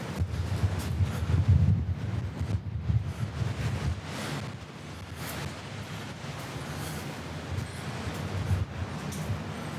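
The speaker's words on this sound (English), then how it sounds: "It's so windy." Strong gusting wind buffets the microphone outdoors by an abandoned hotel on the Croatian coast, a steady low roar rising and falling throughout with no voices.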